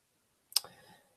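A single sharp computer mouse click, close and crisp, followed by a brief faint rattle as it fades, alone in an otherwise quiet moment.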